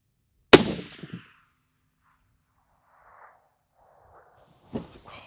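A single sharp rifle shot from a long-range wind-bucking cartridge cracks loudly and decays quickly, followed by near silence and a faint distant thump before another brief impulsive noise at the end.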